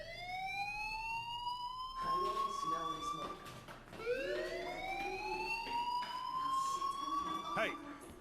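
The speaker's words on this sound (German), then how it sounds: "do you hear that fire alarm?" Fire alarm ringing inside a school in the Life is Strange video game, a loud wailing electronic tone that sweeps upward in repeated cycles, with bursts of other sound layered over it.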